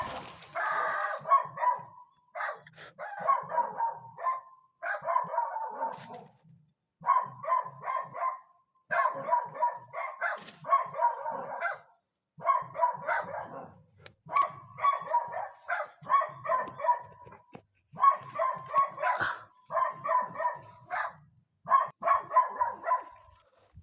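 Dogs barking at a house in repeated bursts of several barks each, loud and close, continuing steadily with brief gaps throughout.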